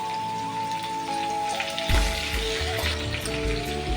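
Ridge gourd pieces dropped one by one into hot oil, a quiet start that bursts into loud, close crackling sizzle and popping that continues to the end.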